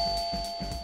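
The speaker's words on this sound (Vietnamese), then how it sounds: "Chuông cửa reo." A doorbell rings indoors with a steady electronic tone, soft repeated pulses sounding close and clear with no voices over it.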